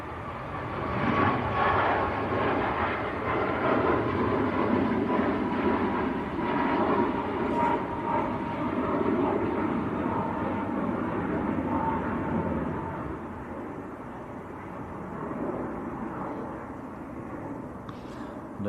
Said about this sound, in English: Tui just lifting off.